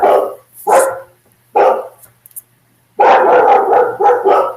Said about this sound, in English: Sorry, my dog is outside my window.